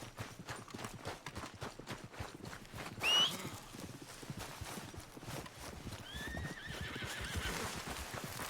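A horse whinnies in Red Dead Redemption 2, a loud rising neigh midway followed by a softer, longer one, with steady clip-clop hoofbeats and outdoor game ambience throughout.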